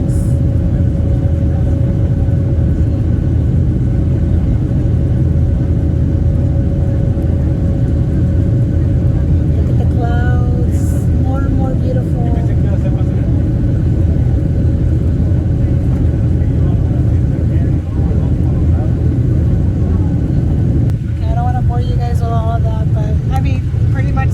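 Steady, loud low-frequency rumble inside an airliner cabin during takeoff on a flight to San Salvador, El Salvador, constant throughout with faint brief speech under it.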